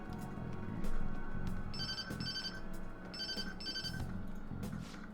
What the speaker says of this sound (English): I'll just call Sojiro's phone.